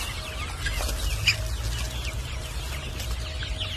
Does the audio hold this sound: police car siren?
no